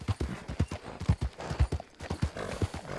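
Horse hooves clip-clop steadily in Red Dead Redemption 2, with a brisk repeating rhythm of strong, close thuds throughout and no talk.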